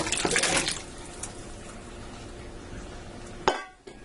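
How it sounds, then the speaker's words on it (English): A splashy pour of diced potatoes and water lands at the start, tipped into an electric multi-cooker, followed by low background hum and a sharp clink of a pot near the end. "I'm going to dump that in water and all."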